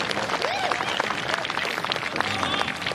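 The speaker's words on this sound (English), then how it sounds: "You can sense the home crowd feeling it for Jasper Stubbs." A home golf crowd at a final round of a tournament claps and cheers in a steady, dense wash of applause, with scattered voices and whistles mixed in.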